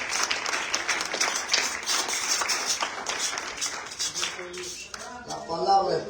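A church congregation clapping hands as an offering, dense sustained applause from many people filling the room, with a few voices calling out near the end.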